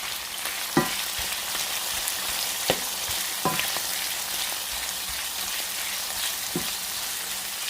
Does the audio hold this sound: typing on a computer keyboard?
no